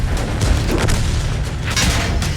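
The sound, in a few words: tank gun firing in a tank video game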